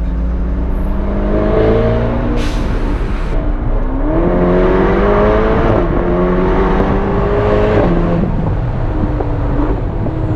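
A Ferrari Portofino's turbocharged V8 accelerates steadily, revs climbing through several gear shifts, loud and close with a constant roar and no talking.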